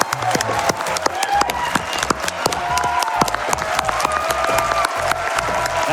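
A live crowd at a Games Done Quick speedrun charity marathon applauding and cheering as a $1 million donation total is reached, dense sustained clapping with whoops, loud and continuous, with a voice talking over it.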